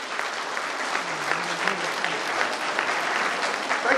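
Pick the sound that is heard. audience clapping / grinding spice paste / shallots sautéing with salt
audience clapping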